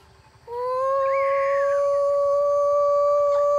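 A person imitates a dog howling with one long, rising, sustained vocal howl that holds steady for about three seconds, loud and close.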